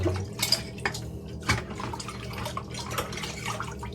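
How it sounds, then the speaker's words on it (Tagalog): Dishes are rinsed with water outdoors without a sink, with splashing and dripping water and clinking plates and utensils in irregular bursts, close by. "nagbabanlaw na ako."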